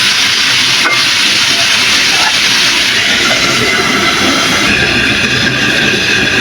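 Potatoes fry in a pan with a loud, continuous, close sizzle and hiss that stays dense and even throughout, with no voices.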